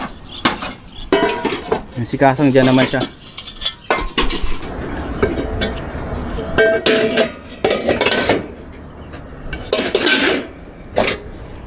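Used metal cooking pots and cookware are handled and knocked together, giving repeated loud clanks and metallic rattles in uneven bursts, with a person speaking briefly in between.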